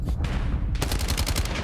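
Rapid gunfire in a Call of Duty match during a competitive esports game, a loud dense burst of automatic shots with a brief lull before another quick volley.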